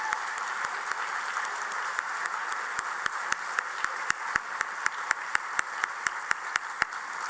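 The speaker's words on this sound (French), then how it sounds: "On les applaudit." Steady applause from an awards-evening audience, many hands clapping continuously with sharp individual claps standing out, moderately loud and with no talking.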